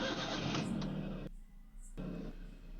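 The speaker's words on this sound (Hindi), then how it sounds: "तो अब मैं कार को स्टार्ट करने वाला हूँ।" A Maruti Alto car engine starts up, a loud, broad mechanical roar that drops out briefly and then settles back into a steady idle rumble.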